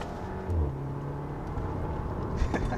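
A Volkswagen Golf GTI Mk6 with a DSG gearbox driving a twisty road, heard as a steady low engine hum and road rumble from inside the car, even and moderately loud, with no talk.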